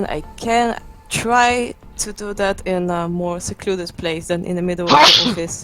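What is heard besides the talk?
sneeze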